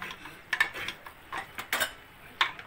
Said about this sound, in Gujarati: પછી હલાવી નાખશું આવી રીતે